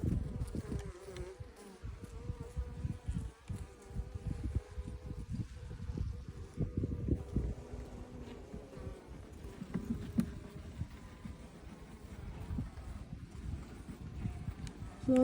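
Newly hatched, fluffy young bees fill a recovering hive with a steady, soft buzzing hum, close and continuous, rising and falling slightly with a few louder passes near the end.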